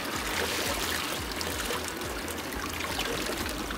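Mountain stream water flows and trickles beneath a bridge in the northern areas of Pakistan, a steady close rushing babble filling the whole stretch with no talking.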